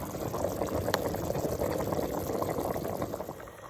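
Baby lima beans boil hard in a pot on high heat, giving a steady, dense bubbling and rolling wash that stays even throughout, with no talking.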